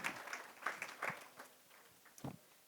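Audience applause for a curators' panel at a talk event, a short, thin burst of scattered clapping that tapers off quickly, fairly faint and heard from a distance.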